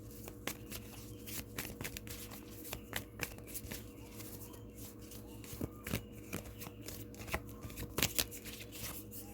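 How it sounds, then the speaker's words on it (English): Radiant Rider-Waite tarot cards riffle and flick in quick, soft bursts, a steady shuffling close by with no one speaking. "Shuffle up just a little bit."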